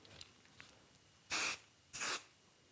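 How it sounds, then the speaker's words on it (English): Spray glue hisses onto pillow batting in two short bursts, close and crisp, after a few faint handling sounds. "Now that I've sprayed it down, it's going to lie nice and smooth."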